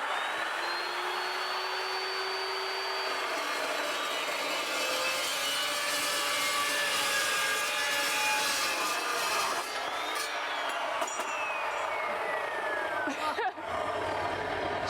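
Chop saw cutting steel, heard as a loud sustained grinding whine with a rising and falling motor pitch. It runs steadily for over ten seconds and cuts off abruptly near the end.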